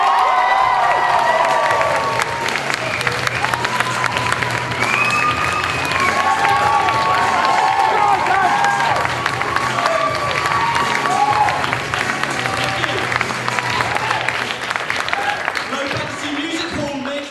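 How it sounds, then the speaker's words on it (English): A stand-up comedy audience applauds and cheers a comedian walking on, with sustained, dense clapping, scattered whoops and crowd voices that hold steady before easing slightly at the end. "please give a massively warm round of applause for Mr. Dan Chod!"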